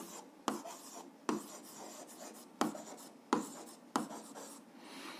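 Pen or pencil writing by hand on paper while working an algebra exercise, with soft continuous scratching broken by several sharp taps as new strokes begin, close and fairly quiet.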